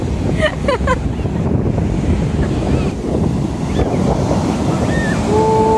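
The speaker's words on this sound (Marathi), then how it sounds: "आणि इथे आपला समुद्र, मस्त असा निळाशार समुद्र" Sea waves wash continuously along the coast at Vengurla, heavy with wind buffeting the microphone, and faint voices can be heard briefly near the start.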